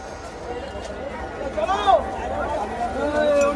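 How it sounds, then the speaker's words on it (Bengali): Crowd chatter on a crowded train, a steady murmur of many voices with a louder nearby voice rising and falling over the babble. "কি ভিড় ট্রেনটায়"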